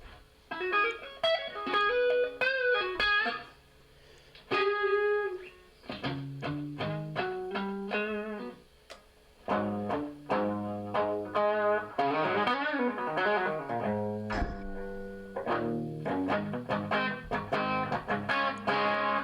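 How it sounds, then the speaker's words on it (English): Electric guitar fitted with a DiMarzio Super Distortion pickup in a Stratocaster, played loud and distorted in fast bursts of notes and chords, with effects coloring the tone and brief pauses between phrases. "that's the DiMarzio Super Distortion, a Strat DiMarzio Super Distortion."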